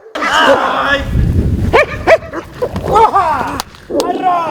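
A police dog in Bukovina, Ukraine, barks and yips in short bursts, close by, with voices and other noise in the background.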